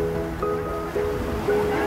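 Ocean waves wash steadily and softly, with a low droning hum running beneath them.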